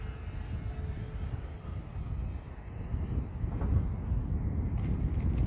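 A Hobbyzone Aeroscout RC airplane's electric motor drones steadily overhead, a fairly loud continuous whir with throttle eased back slightly, holding an even level with a small swell near the end.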